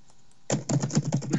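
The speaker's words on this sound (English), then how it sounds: "Hear me mashing my keyboard?" Fast, loud keyboard mashing on a computer keyboard: a rapid burst of clattering keystrokes starting abruptly after a brief quiet moment, close to the microphone.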